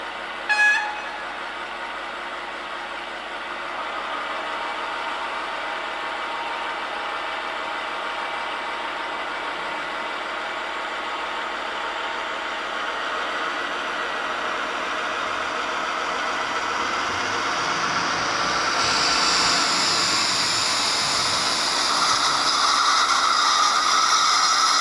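A model ESU class V60 diesel locomotive's sound module idles with a steady engine hum, preceded by a brief short tone at the start and growing slightly louder and brighter toward the end.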